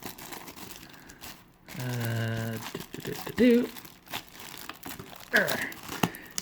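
Tape being pulled and torn open on the cardboard packaging of an Azur Lane IJN Yamashiro figure box, crinkly crackling and ripping in bursts, close up, with a voice speaking around it.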